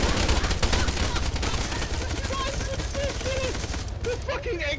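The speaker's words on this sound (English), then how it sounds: "so feel free to shoot the people down there" Dense, continuous gunfire from an Arma 3 execution-squad scene, rattling bursts in the foreground with voices talking and shouting underneath throughout.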